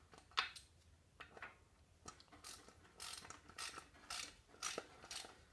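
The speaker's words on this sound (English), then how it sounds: "I gotta go get a ratchet to tighten that up" A hand ratchet clicks in short quick runs while tightening front brake parts on a 1947 GMC truck, close and fairly quiet, with brief pauses between strokes.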